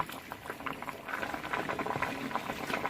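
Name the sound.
lentils and beans boiling in a pot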